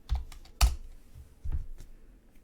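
Someone types code on a computer keyboard in the kOS programming environment: a few distinct, close key clacks spaced irregularly over a couple of seconds, with no talking.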